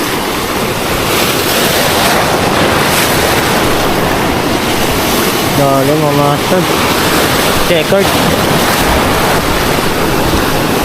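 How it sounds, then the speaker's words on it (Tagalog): Strong ocean waves roar continuously and loudly against the shore with heavy wind noise on the microphone, while people talk briefly over the surf. "Lakas ng alon."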